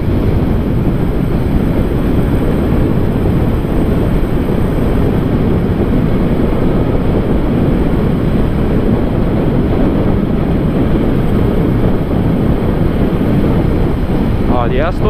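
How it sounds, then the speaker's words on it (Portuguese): Constant roaring wind buffets the microphone near the construction site of a 278-metre skyscraper, a dense, unbroken rumble covering everything for the whole stretch. "Vento aqui."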